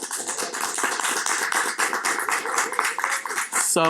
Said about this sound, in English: give you guys a round of applause for showing up